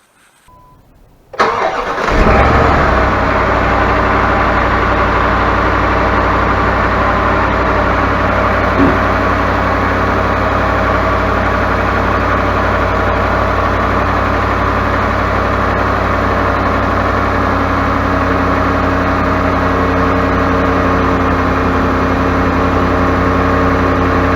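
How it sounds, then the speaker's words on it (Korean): A Dodge Dakota V8, fitted with an electric fan in place of its fan clutch, cranks and catches after a moment of quiet, then settles into a loud, steady idle that runs on unbroken. "그래서 시동을 한번 걸어 보겠습니다"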